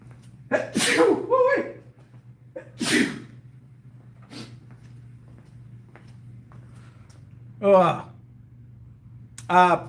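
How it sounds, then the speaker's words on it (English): A loud sneeze, with a sharp intake before it and a short follow-up burst, then breathing and faint voice sounds over a steady low hum. "I'm about to sneeze."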